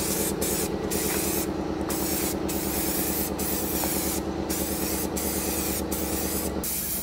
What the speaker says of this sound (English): I got this Magnolia Home spray paint at Lowe's, and it was fairly pricey, but I'm gonna give it a try.